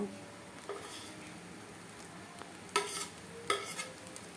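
Soft sizzling of eggs frying in a pan for chowmein, broken by a few sharp scrapes and clinks of stirring, one near the start and two louder later.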